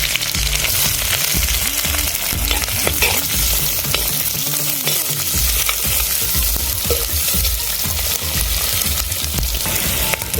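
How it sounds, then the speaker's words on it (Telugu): Onions frying in oil for a traditional tamarind-leaf and prawn curry, a loud, dense continuous sizzle with stirring scrapes, close up and without talk. "ఇప్పుడు ఆయిల్ వేసేసుకుందామండి. ఫస్ట్ ఉల్లిపాయలు వేసేసుకుందాం."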